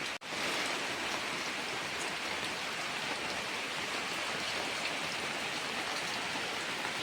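Steady, dense rainfall pours without a break at a fairly loud level in a workshop setting where a double-size wooden bed frame is being built. Beyond one brief click at the very start, nothing else is heard.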